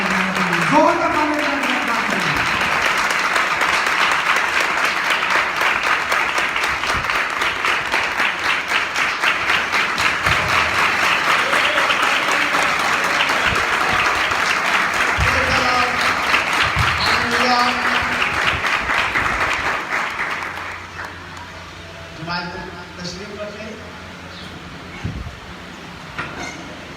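Sustained applause from a worship-service audience in Lahore fills most of the stretch, dense and loud, with voices mixed in, then breaks off near the end into quieter talk.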